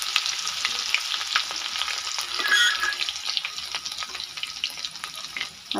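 Ground ginger-garlic paste fries in oil with popped mustard seeds for a rassa bhaji, giving a loud, continuous close-up sizzle with faint stirring clicks and no voices.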